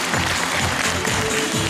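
Concert audience in a hall gives a short, continuous burst of full, even applause.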